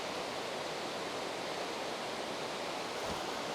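Broad, constant roar of a large river in the mountains near Marten Lake, heavy rushing water filling the whole moment without pause or speech.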